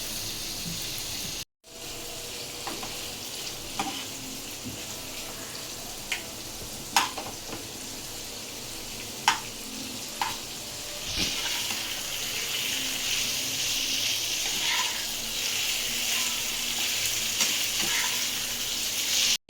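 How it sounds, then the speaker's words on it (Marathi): Paneer fries in hot oil in a home kitchen with a steady, close sizzle, punctuated by occasional sharp crackles and utensil taps, continuing for the whole stretch without talk. "आता सर्वप्रथम पनीरला आपल्याला ऑइल फ्राय करून घ्यायचे।"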